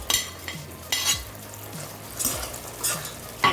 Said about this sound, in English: Now add the fried florets of cauliflower